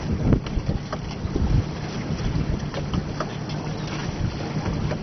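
Big outboard sport fishing boats rumble past on the water while wind buffets the microphone in steady gusts.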